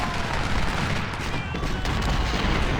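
Artillery guns firing in a strategy war game: a dense, continuous rumble of overlapping cannon blasts and gunfire, loud and sustained throughout with no clear gaps.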